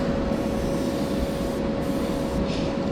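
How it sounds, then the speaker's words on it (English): Steady hissing spray from a nearby aerosol or airbrush painting a model car in a spray booth, continuous and even for the whole stretch, with a faint electrical hum beneath. "in the spray booth, you'll see that I'm going to start out with some light coats"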